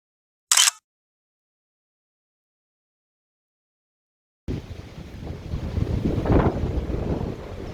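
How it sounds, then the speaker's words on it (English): Wind at sea buffets the microphone in a steady loud rumble with the wash of water, starting abruptly after a short sharp noise and a long silence. "There's less wind."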